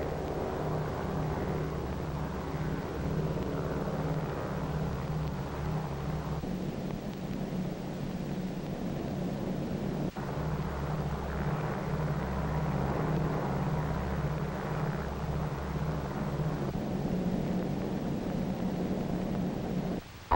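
The B-29 bomber Dave's Dream flies toward the Bikini target, heard as a steady droning propeller engine hum with a low throb, continuous and moderately loud, with no voices.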